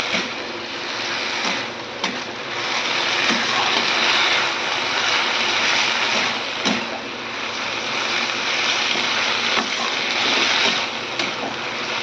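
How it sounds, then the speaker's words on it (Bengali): Malabar spinach sautéing in a pan gives a steady, close sizzling hiss that runs throughout, with a few soft clicks and scrapes from stirring. "শাকটাকে আমি আগে কষিয়ে নিচ্ছি"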